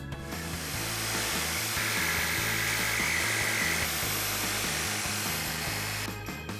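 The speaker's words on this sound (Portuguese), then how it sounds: "Agora com a tico-tico, você irá cortar o outline em cima das suas marcações." A jigsaw cuts the outline of a skateboard deck, a steady high-pitched buzzing whine that runs nonstop and loud from start to finish and eases off only at the very end.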